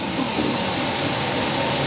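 A ShopBot CNC machine moving during an automatic tool changer calibration routine: a steady, loud mechanical whir and hum with a faint shifting tone, continuous and close, with no talking.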